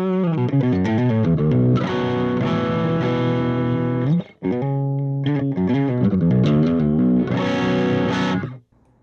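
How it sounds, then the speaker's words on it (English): Electric guitar played through a Kyro Audio Dulo preamp pedal with distortion, loud sustained chords and notes with a short break in the middle, ringing out close with no talking. "So you're adding distortion."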